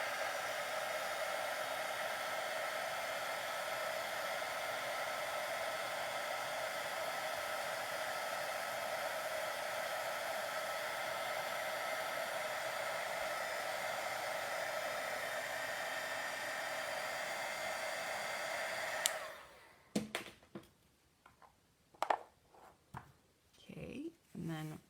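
A heat tool blows a steady, loud whirring hiss for about nineteen seconds while melting white embossing powder, then shuts off abruptly, leaving a few soft handling clicks and rustles.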